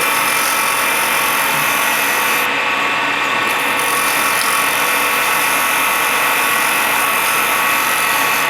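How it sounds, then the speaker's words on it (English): A skew chisel held as a negative rake scraper trims a wooden pen blank down to the bushings on a spinning lathe, giving a steady, loud, hissing scrape over the continuous whir of the machine. "I just trim it down to the bushings using a skew"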